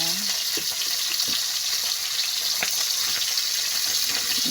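Fish frying in a pan, with alokbati leaves nearby, a steady close hiss and sizzle of hot oil with faint crackles running throughout, no voices over it.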